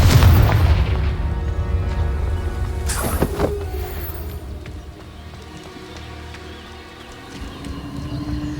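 Magic spells Stupefy and Confringo going off in a video game, booming blasts among rocks, a heavy impact early then a sharp burst midway over a continuous low rumbling game soundscape.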